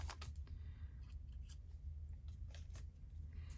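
Scissors snip through a sticky piece of junk mail in a run of quick, close, crisp cuts over a low background hum, with no talk.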